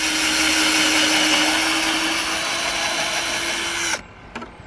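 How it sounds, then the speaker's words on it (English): A power drill drives a screw into a wooden pallet plank with a loud, steady high-pitched whine for about four seconds, then cuts off abruptly, followed by a brief faint click. "and then drill down."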